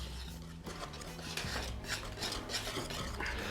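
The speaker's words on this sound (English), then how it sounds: "Then we're gonna take a teaspoon of black pepper. Whisk this all together." Whisk scraping and clinking around a bowl while mixing a cayenne and black pepper spice blend for a spicy fish sandwich, a brisk, continuous rasping stir with light metallic taps, close and fairly quiet.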